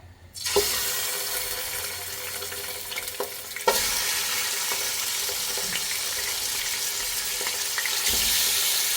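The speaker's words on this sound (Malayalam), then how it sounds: "കുറച്ച് നേരം എണ്ണയിൽ ചിക്കൻ ഒന്ന് വാട്ടിയെടുക്കാം നമുക്ക്." Chicken pieces fry in onion-flavoured oil for Chicken Zurbian biryani, giving a loud, steady broadband sizzle that jumps sharply after a few seconds as more meat hits the pan, with occasional stirring knocks and no talking.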